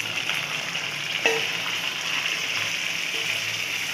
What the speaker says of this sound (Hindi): यहाँ पिंक हो गई हमारी प्याज और इसमें हम पूरा मैरिनेट किया हुआ चिकन डाल देंगे